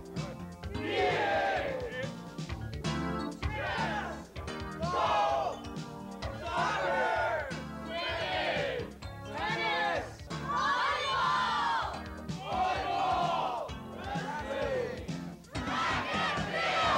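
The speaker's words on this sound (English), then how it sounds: "So let's hear a cheer for the Crosley team" A school crowd cheers for a sports team, loud repeated bursts of shouting and chanting voices in rhythmic waves, rising and falling throughout.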